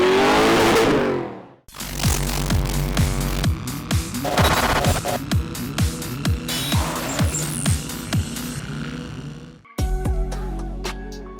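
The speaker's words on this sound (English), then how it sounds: "We get to take this bad boy out on the street, run it through its paces" A Mazda RX-7 FD fitted with an LS3 V8 engine revs and drives on a street, loud throaty bursts with repeated gear-change dips and sharp rises, close and dominant throughout.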